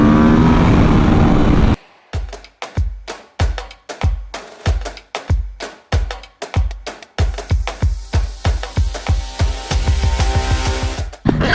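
An Aprilia RSV4 Factory 1100 howls at high revs on track, then breaks into a fast string of sharp, rhythmic bursts as it is blipped or shifted, before building back into a dense, loud roar close by.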